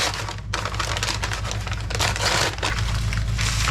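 A paper sugar bag is crinkled and handled up close, with continuous dry rustling and crackling over a steady low electrical hum.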